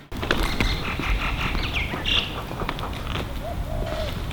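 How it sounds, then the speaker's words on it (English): Several birds chirp and whistle intermittently over a busy, rumbling outdoor background, with scattered creaks. "All the bird calls sound different."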